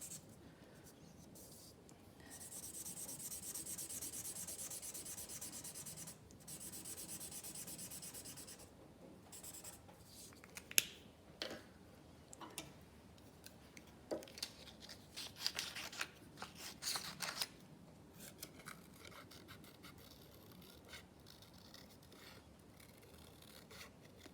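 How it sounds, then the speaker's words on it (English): Pencil colouring and cutting of paper for an owl craft: steady scratchy rubbing strokes of colouring, then irregular snips and crisp paper rustles of scissors, close and fairly quiet. "So I'm going to colour them in and then I'm going to cut them out."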